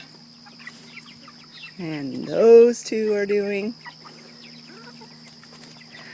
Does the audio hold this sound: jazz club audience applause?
no